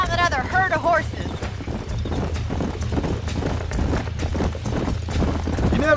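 Several horses clip-clop at a gallop in Red Dead Redemption 2, a steady drumming of hooves under a music bed, with a brief voice at the start.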